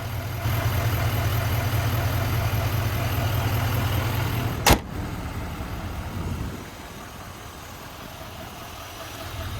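A 2025 GMC Sierra 2500 HD SLT with its Duramax diesel idling, a steady low rumble heard up close, broken by a sharp click midway before the engine hum drops away to a quieter background.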